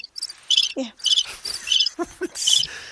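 People mimic crickets with a run of sharp, high chirping bursts in an uneven rhythm, close and fairly loud, with a few brief voiced sounds between the chirps.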